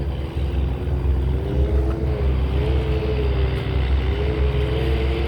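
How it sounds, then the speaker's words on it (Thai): Tugboats, five working together, tow a cargo ship on strong river current in Thailand, giving a steady, loud low engine drone with a wavering tonal hum throughout. "วันนี้พามาฟังเสียงเรือ"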